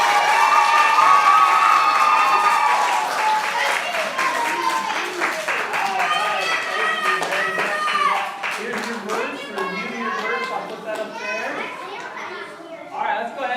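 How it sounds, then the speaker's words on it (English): A church congregation claps in a round of applause, the clapping mixed with lively chatter and children's voices that carry on as the clapping fades. "let's give a round of applause"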